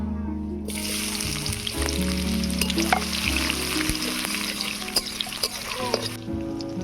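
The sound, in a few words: onions frying in mustard oil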